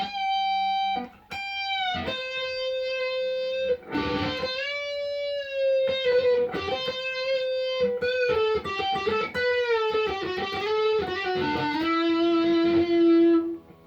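Electric guitar run through effects plays a melodic section of a song, with sustained bent and slid notes and quick phrases, close and steady, no talking.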